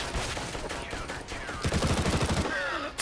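Rapid automatic gunfire in the video game CS:GO, a dense rattling burst of shots that grows steadier midway and fades near the end, loud and close with little talk over it.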